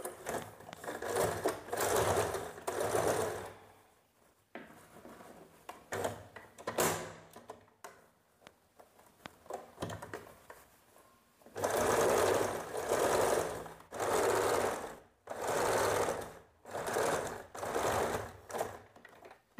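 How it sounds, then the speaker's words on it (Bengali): A sewing machine stitches a blouse seam toward the armpit in several bursts of steady rapid whirring, separated by pauses filled with soft handling clicks and fabric rustle, close and alone. "আমি এখান থেকে সেলাই করে বগলের দিকে নিয়ে যাব"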